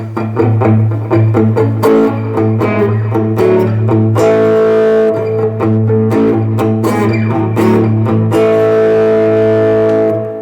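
Squier Stratosonic electric guitar chords and notes ring out with boost distortion and a wash of reverb and delay, sustained tones trailing into each other. No voices.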